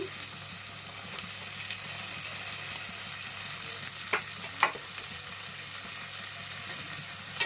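Chopped onions and green chillies fry in a pan with a soft, steady hiss, broken by a couple of brief stirring scrapes, quiet and with no voices.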